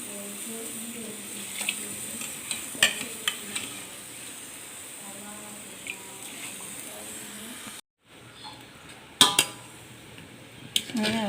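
Rice going into a pot on the stove for chicken mandi and being stirred, with scraping, rattling utensil taps and a faint sizzle, then a short gap followed by sharper clinks.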